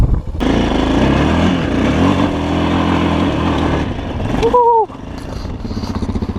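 A KOVI Advance 250 supermoto motorcycle engine revving close by on a dirt ride, a sustained loud drone with rising and falling throttle, cutting off sharply near the end before a lower idle.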